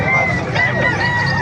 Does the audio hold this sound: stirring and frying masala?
no